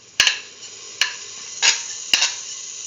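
Cumin seeds sizzle in a pan for a tomato stew, a steady soft hiss broken by four sharp utensil taps.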